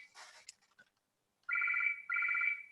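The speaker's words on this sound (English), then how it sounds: "It's really the perfect West timing for the phone to ring." A phone rings nearby in two loud, even electronic trills after a brief quiet pause, with some faint rustling before it.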